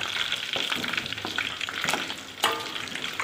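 Galangal and egg-coated food fry in oil in a pan, a close, continuous crackling sizzle with occasional sharper pops and stirring scrapes.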